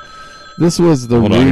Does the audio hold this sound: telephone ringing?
yes